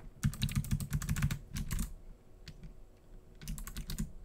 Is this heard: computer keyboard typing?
yes